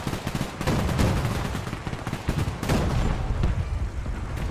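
Heavy, continuous gunfire from a WWII strategy video game, with dense overlapping shots and bursts rolling on without a break and fairly loud throughout.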